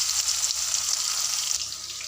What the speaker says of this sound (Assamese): মোৰ তেলখিনি গৰম হৈছে মই এইখিনি ইয়াতে এয়া মাছ পিচ এনেকৈ দি দিম ধুনীয়াকৈ অলপ কাঢ়াকৈ ফ্ৰাই কৰি ল'ম প্ৰথম মাছখিনি